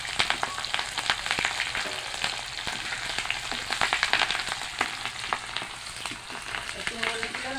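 Chopped garlic and chili, with bay leaf, fry in hot oil in a pan for banana-flower mochar ghonto, producing a dense, continuous crackling sizzle with frequent sharp pops, close and steady throughout without talk.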